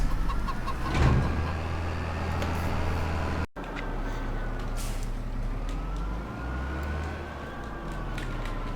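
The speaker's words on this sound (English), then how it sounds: "we'll try and see if these chickens want any more food" Chickens clucking on a farm in the Farming Simulator 25 video game, a brief cluck early on over a steady low engine drone, then continuous farm ambience with faint high calls.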